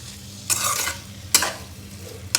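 Chicken semiya dum biryani mixture cooking on a low flame, with a quiet steady simmer broken by a few louder scraping stirs of the pan at irregular intervals.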